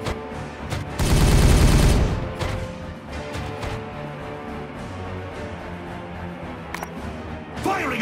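Squad weapons open up in Warhammer 40000: Regicide, a loud dense burst of automatic fire for about a second, then scattered shots and impacts trailing off over a low battlefield hum.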